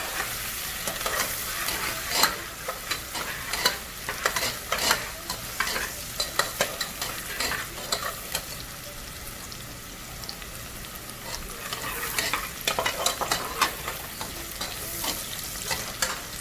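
Ingredients for a Chinese-style chicken chili sauce frying in a pan, a steady crackling sizzle with intermittent scraping and stirring clatters throughout, fairly close and without talk.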